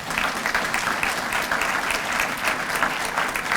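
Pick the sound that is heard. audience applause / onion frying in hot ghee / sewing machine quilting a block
audience applause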